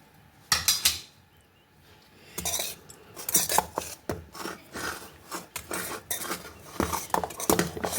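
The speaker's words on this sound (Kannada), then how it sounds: "ಒಂಚೂರು ಮಿಕ್ಸ್ ಮಾಡ್ಕೊಂಡ್ರೆ ಕ್ಯಾಪ್ಸಿಕಮ್ ರೈಸ್ ರೆಡಿ." A spoon scrapes and stirs capsicum masala rice in a pot, with irregular metallic rasps and clinks in bursts, close and fairly loud, no talking.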